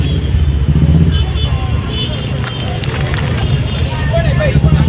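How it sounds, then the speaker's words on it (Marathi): Crowded Thane market street, a dense wash of car and motorbike engines, horns and crowd babble, steady and close, with voices chattering throughout. "आता ठाणा मार्केटला जाम गर्दी आहे"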